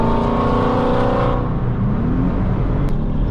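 A Porsche drives past at a car meet and highway cruise: a loud, close engine roar with a steady drone that drops away midway as the car pulls off, followed by lingering road and traffic noise.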